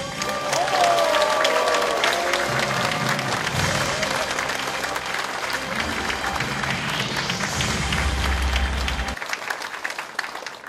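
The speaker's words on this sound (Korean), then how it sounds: "다시 한번 우리 큰 박수로 오늘의 창당 발기인 대회를 축하해 주시기 바랍니다" Sustained crowd applause fills a hall at a political party founding ceremony, dense clapping with some cheering and murmuring voices, loud throughout before fading near the end.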